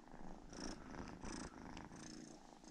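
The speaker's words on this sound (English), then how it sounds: "Listen to her purring." A small kitten purrs softly and close, in a steady rhythm of rumbling breaths, quiet and without talk.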